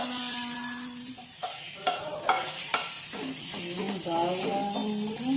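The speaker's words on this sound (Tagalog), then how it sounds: "fry na tayo ng bawang" Garlic frying in a pan for homemade fried rice gives a soft sizzle broken by several sharp scraping stirs, with a voice heard briefly at the start.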